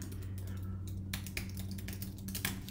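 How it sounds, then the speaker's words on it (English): Rapid typing on a computer keyboard, a quick run of close, light key clicks over a steady low hum. "I'm going to type it in here really quick"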